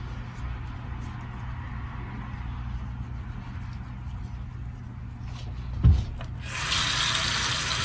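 Warm water runs steadily from a tap into a sink during a skin-cleansing routine, a continuous close hiss and gurgle that briefly splashes, then grows brighter and louder toward the end.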